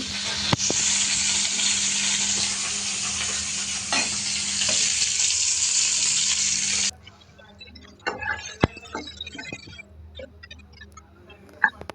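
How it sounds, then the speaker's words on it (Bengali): Shilong fish frying in oil in a pan: a loud, steady sizzle for about seven seconds, then a quieter stretch of faint crackle with scattered clinks and taps from the pan. No one speaks. "মাছগুলো ভেজে নিচ্ছি।"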